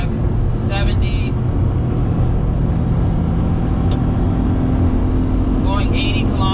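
A Daihatsu HiJet kei truck accelerates hard on a highway. Its engine and road noise give a steady, loud drone throughout, with faint tonal whines rising briefly in places.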